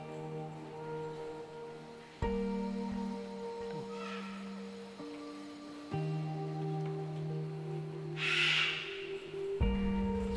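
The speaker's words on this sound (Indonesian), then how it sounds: "Suara burung pun memanggil." Low hooting bird calls repeat at steady intervals, each a sustained tone, in a quiet setting with a brief higher rustle near the end.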